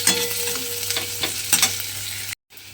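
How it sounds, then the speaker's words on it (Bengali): Chopped onion sizzles and fries in hot oil, a steady close crackle with a few stirring scrapes, cut off abruptly near the end. "দিয়ে পেঁয়াজটাকে একটু প্রথমে লাল করে ভেজে নিতে হবে"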